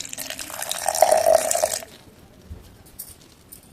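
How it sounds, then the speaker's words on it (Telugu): Water pours into a mixer jar while grinding a coconut masala for a fish curry, a fairly loud splashing stream for under two seconds that then cuts off, leaving quiet kitchen background. "మళ్ళీ కొద్దిగా వాటర్ అయితే వేసుకుందాం"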